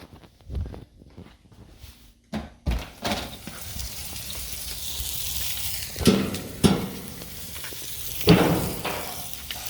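Blackened cobia and peppers sizzle over an outdoor fire as a steady hissing fry, broken by several loud clunks and knocks of handling, close by and with no talking.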